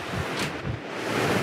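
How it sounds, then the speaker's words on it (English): Strong wind buffets the microphone outdoors on the open deck of the Carnival Liberty cruise ship, a steady loud rushing roar with gusts throughout and no talking. "That's really windy out"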